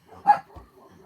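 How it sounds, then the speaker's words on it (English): Noodles, a pet dog, gives a single short, sharp bark at moderate distance indoors, followed by faint low thumps and quiet background sounds. "that is Noodles barking"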